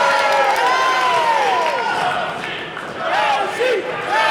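A live wrestling crowd cheers and shouts for Josie Wildheart, a continuous roar of many voices with rising whoops. The noise dips briefly midway, then swells again.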